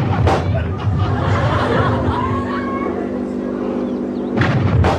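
Cannons fire balls at contestants on the Japanese game show Takeshi's Castle, sounding as loud booming blasts at the start and end under crowd chatter and excited commentary.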